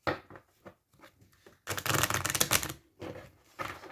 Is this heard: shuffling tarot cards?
yes